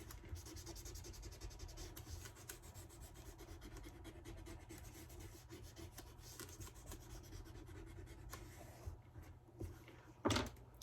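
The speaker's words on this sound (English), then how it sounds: "So, I'm going to burnish this really good." Vinyl decal being burnished firmly onto a ceramic coaster, a continuous close rubbing and scraping texture with a sharper scrape near the end.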